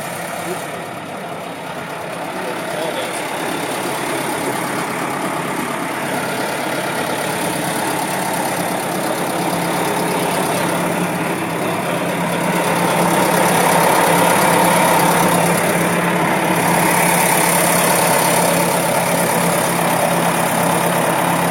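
A small vintage tractor engine idling at a gas and steam tractor show, a steady, loud continuous rumble with slight surges, running throughout with faint voices in the background.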